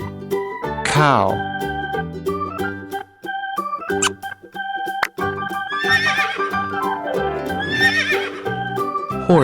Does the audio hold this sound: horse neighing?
yes